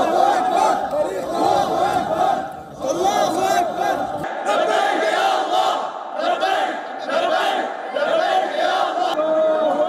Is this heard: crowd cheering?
yes